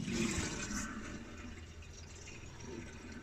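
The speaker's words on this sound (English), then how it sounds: "that noise is the boiler running down there because it's got water on it now" A central heating boiler runs while water refills the system during a chrome towel rail valve repair, giving a faint, steady rushing and trickling of water that stays fairly even throughout.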